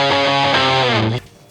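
A thick, fuzzy electric guitar chord through octave, overdrive and Big Muff fuzz pedals rings out heavily distorted and sustained, then cuts off abruptly, leaving a faint hum.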